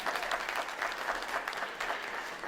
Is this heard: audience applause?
yes